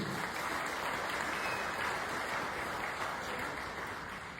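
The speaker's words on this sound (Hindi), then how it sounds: "एक हो जाए जोरदार तालियां मिस्टर पुंडीर सर के लिए" A business seminar audience gives a long, even round of applause for a guest, dense clapping at moderate volume that fades slightly toward the end.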